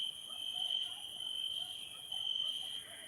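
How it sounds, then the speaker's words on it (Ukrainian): Crickets chirp at dusk in a continuous high-pitched trill, swelling and fading slightly, with no voices. "Ну, а цвіркуни вони свого не просплять."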